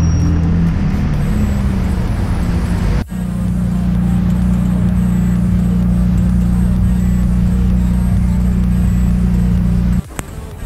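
Turbocharged V8 supercar on a London street, its engine a loud, steady low rumble that holds for several seconds before cutting off abruptly, with traffic noise around it.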